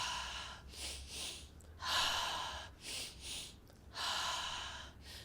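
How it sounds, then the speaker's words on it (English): Deep, slow breaths during a relaxing breathing exercise, each long airy inhale and exhale rising and fading in a steady rhythm, close and fairly loud with no talking. "Let's make these last few breaths our biggest ones."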